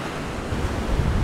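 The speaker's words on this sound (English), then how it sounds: "This gnarly bit of coastline here, being eroded away by the ocean" Ocean surf washing against a soft, eroding cliff coastline near a headland, a continuous broad rush of waves with heavy wind buffeting the microphone, loud and close, with no speech.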